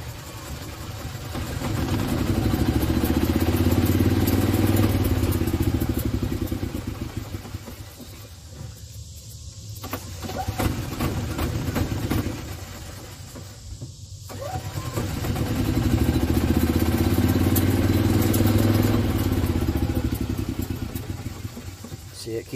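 A gas Yamaha G29 golf cart engine runs in loud, sustained bursts that sag and fade as it stalls, then catches again; a carburetor fuel problem makes it keep dying, with a voice talking over parts of it.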